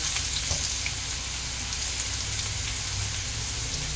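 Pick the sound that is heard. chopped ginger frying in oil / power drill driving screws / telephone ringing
chopped ginger frying in oil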